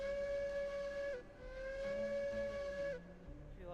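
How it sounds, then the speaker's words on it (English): Steam locomotive whistle in the railroad game Railroads Online, two long sustained toots with a short break between, loud and close over a steady background hiss, ending in a softer tail. "Let me just blow the whistle for you."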